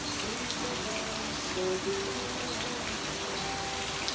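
Steady rain in Cuba patters densely on surfaces, a continuous close hiss of drops with faint water trickles underneath.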